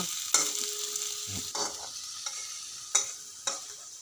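Potatoes frying in a pan with a steady, close sizzle, broken by several sharp scrapes and clacks of a utensil stirring them.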